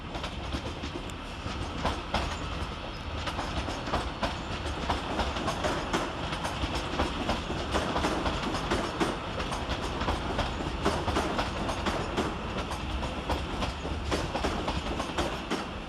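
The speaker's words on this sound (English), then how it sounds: "Arriving next into the station is 397-001, working the 1315 Transpennine Express service from Preston through to" A Transpennine Express class 397 train arriving at Carlisle railway station, rolling in with steady rumble and rhythmic clickety-clack of wheels over rail joints, close and continuous.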